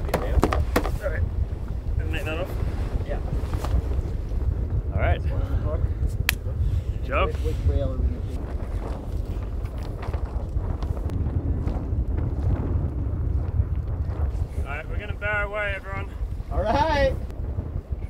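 Wooden sailboat Tally Ho under sail after a long rebuild, with steady wind rushing across the microphone and water noise throughout, while several people talk and call out on deck.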